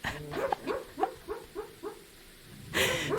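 Barking of a dog in the medieval survival game Medieval Dynasty, a run of about seven evenly spaced woofs at moderate distance, followed by a brief burst of broadband noise.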